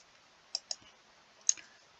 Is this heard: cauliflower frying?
no